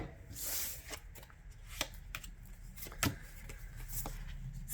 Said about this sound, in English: Just going to give our tarot a quick shuffle here.